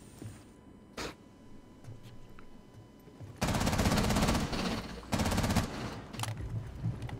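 Rapid automatic gunfire in the video game Rainbow Six Siege, loud sustained bursts breaking off and resuming, preceded by a few isolated shots.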